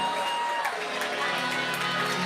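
Student section cheering at a high school varsity hockey home opener, Shaker versus Holy Name: a steady, dense wash of crowd noise with scattered shouts, fairly loud and continuous throughout.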